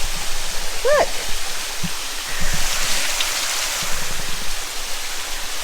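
A waterfall pours in a steady, loud broadband rush of falling water, with a brief voice speaking near the start.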